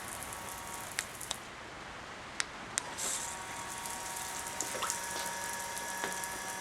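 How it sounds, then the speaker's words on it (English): Water streams from a 12 volt camping shower pump in a steady, close hiss like a running tap, with a few sharp clicks early on and no speech. "Turn the pump on. Here's the flow of water."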